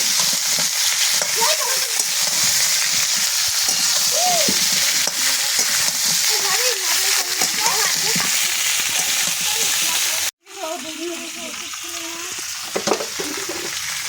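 Raw seeded banana pieces and chilli sizzle loudly in a frying pan while being stirred, a dense steady fry with spatula scrapes over it. A voice is faintly heard at times. It cuts out briefly, then resumes.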